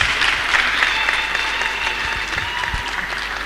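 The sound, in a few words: audience applause at commencement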